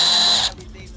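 Power drill boring a hole through a 3D printed hull of a long range autonomous RC power boat, a loud high whine for half a second that stops abruptly, leaving faint room noise.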